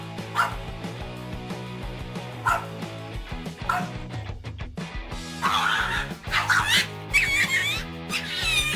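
A dog barks and yips in short bursts over a busy background of music, with squeals and scuffling growing louder toward the end.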